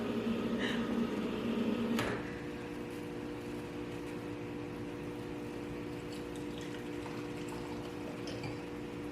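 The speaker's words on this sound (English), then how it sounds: "I have to get my hot water from the spigot" Hot water pours from a spigot into a container, a steady, low, continuous rush, quiet and close, with a slight change in tone near the start.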